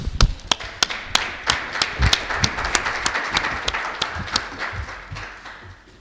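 A small audience applauds at a welcome-home gathering, with sparse, distinct claps close by ringing out over a softer bed of clapping that gradually fades.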